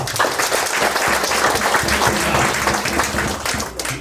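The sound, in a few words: audience applause for a speaker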